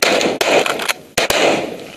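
Loud, close shotgun blasts during a goose hunt in southwestern Ontario: two sharp reports about a second apart, each trailing into open-air noise, with no talking.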